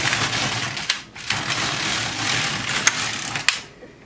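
An LK150 knitting machine carriage sweeps across a lace row, giving a continuous mechanical rasping and clattering with a brief pause near the start, a couple of sharp clicks toward the end, and a quick fade to quiet.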